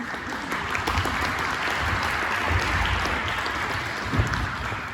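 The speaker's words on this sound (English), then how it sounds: "let's give another round of applause for everybody" Sustained applause from a crowd, steady and fairly loud throughout with dense clapping.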